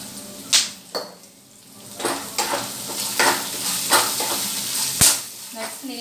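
Food frying in a home kitchen pan, a steady close sizzle with repeated sharp scrapes and knocks of a spatula stirring, and a faint voice briefly in the background.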